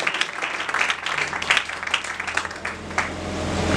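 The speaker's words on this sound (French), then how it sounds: "acclamons très fort pour le Seigneur" A church congregation applauds and cheers in praise, a dense wash of steady clapping with scattered voices, moderately loud and continuous throughout.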